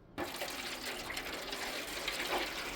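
About three cups of water pour from a container into a smoker drip bucket set beneath a turkey, a short continuous close splashing gush starting abruptly.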